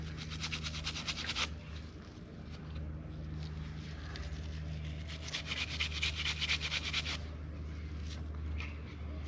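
Abalone being scrubbed to remove its black film, a close, steady rasping rub in repeated strokes, brisk bursts separated by brief pauses, with no talking.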